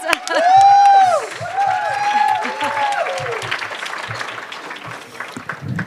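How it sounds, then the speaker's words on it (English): Audience applause welcoming an honoree at an entrepreneurship awards summit, crowd clapping and cheering loudly at first, with a sung or whooping voice gliding over it, then tapering to softer scattered claps by the end. "Let's please welcome Janice Bryant Howroyd with a warm round of applause."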